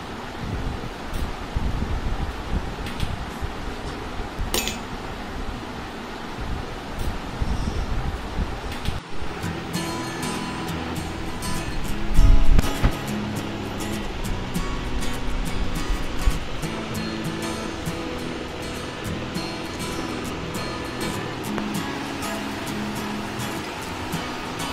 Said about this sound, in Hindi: मिक्सर पे डाल के इसका मैं अभी घोल बना लूंगी।